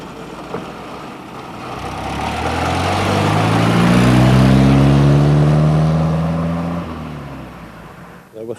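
Austin A40 Sports car engine idling, then revving up to a steady sustained drone before dropping back, close and loud with low rumbling tone.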